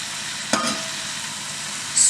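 Spinach filling frying in olive oil hisses softly and steadily, broken by one brief scrape of a stir partway through. No voices.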